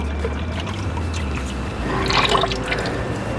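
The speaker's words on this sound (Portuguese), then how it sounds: "Agora eu vou jogar a minha gordura, né, o meu óleo." Two litres of cooking oil pour into a bucket while homemade laundry soap is being made, a steady liquid trickle and splash that thickens toward the middle, close and continuous without talk.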